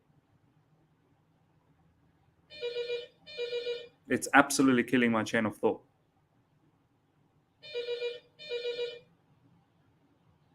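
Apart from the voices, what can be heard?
telephone ringing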